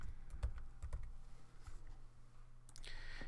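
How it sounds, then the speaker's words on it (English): Quiet keys tap in an uneven run on a computer keyboard while notes are typed into Bible study software, with faint scattered clicks against a soft background hiss and no voices. "And then now I can start typing my mercy notes."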